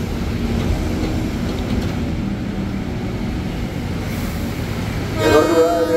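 A KRL Commuter Line train rumbles steadily into Duren Kalibata station in Jakarta, a low continuous roar of wheels and motors, with a horn-like tone sounding near the end.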